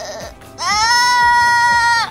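A person imitates a goat bleat, a loud, sustained nasal wavering cry lasting over a second, following a few short vocal sounds.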